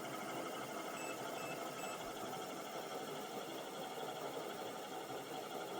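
A pulse motor generator rotor on a ceramic bearing coasts freely with the power cut, giving a steady, continuous whir with faint tonal whine that holds evenly throughout, no voices.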